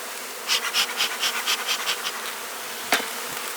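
Honey bees buzz around an open hive during requeening and split work, with a series of pulsing, close buzzes in quick succession followed by a sharp knock of equipment.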